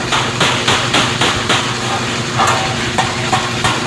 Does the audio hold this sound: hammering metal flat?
yes